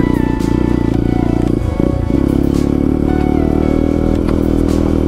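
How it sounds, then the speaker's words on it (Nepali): A motorbike labours uphill on a rough off-road dirt trail near Yangjakot, Pokhara, its engine loud and close with a steady low drone, a brief dip in revs, and clattering and scraping over the surface. "तान्छ त यार बाइक"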